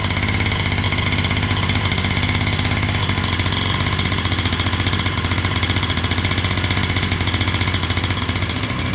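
A Redcat Rampage MT V3 1/5-scale nitro RC monster truck engine runs steadily at a fast, buzzing high idle, loud and close, with a harsh rapid mechanical rattle and no talk.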